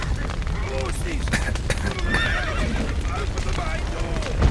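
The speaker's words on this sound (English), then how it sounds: "Horses!" Horses neighing in The Witcher 3 video game, shrill whinnies rising over clip-clopping hooves and shouting voices, with a thud at the end.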